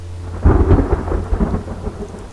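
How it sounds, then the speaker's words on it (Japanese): Outside a cave in the game The Forest, a loud rolling rumble of thunder breaks in and fades over a steady hiss of rain, with no voices. "外は雷か"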